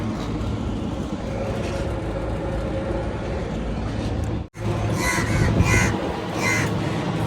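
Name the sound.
crows cawing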